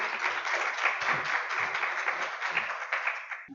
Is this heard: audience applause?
yes